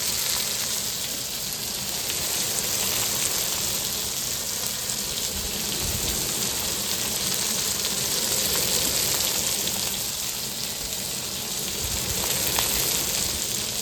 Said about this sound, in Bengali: আদা বাটা রসুন বাটা লঙ্কা বাটা এখন দিয়ে দিব